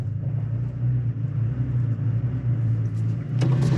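A 2023 Toyota Tacoma TRD Pro crawls uphill off-road on crawl control with its rear unlocked and no pedal input, giving a steady low engine rumble and drone throughout, with a brief sharper noise near the end.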